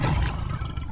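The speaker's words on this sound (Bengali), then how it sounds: "ওটাই তো নরখাদক বাঘের গর্জন" A man-eating tiger in a Bangla cartoon set in the Sundarbans gives a deep, loud, rumbling roar that fills the whole second, alone with no talk.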